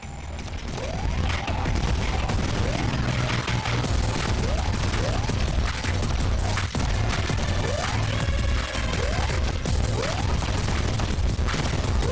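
Shotgun blasts in the Caverns of Mars video game, a dense volley of repeated bursts and mechanical clatter with descending synthetic tones, loud and continuous with no talking.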